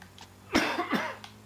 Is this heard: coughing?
yes